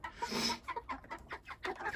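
Chickens clucking as they peck at unfamiliar new feed on a farm, a rapid series of short, close, scratchy clucks and pecking sounds.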